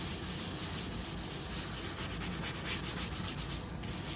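Steady soft rubbing of a cloth buffing a sealed watercolor painting, a continuous quiet scrubbing texture with no voices.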